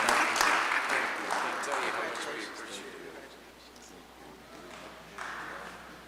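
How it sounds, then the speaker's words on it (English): An audience claps at a mayor's community service awards ceremony, with applause strongest at the start and then slowly fading, and voices mixed in. "Round of applause for Tom."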